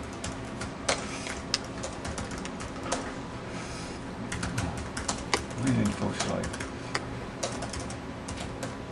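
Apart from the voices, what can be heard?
typing on a computer keyboard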